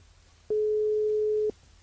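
Telephone line tone heard on an outgoing call, a single steady electronic beep lasting about one second, clear and prominent over low background hum, with no talking.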